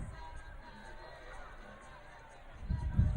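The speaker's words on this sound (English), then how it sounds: "The Highland crowd starting to file out" A large high school football crowd at Highland chatters as it files out after a night game, a steady distant murmur that swells louder near the end, with a voice talking over it.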